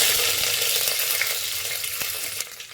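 Curry leaves sizzling in hot oil for a tempering with chana dal, mustard seeds, cumin and dried red chillies, a steady loud crackling hiss with a few sharp pops, close up and without talk.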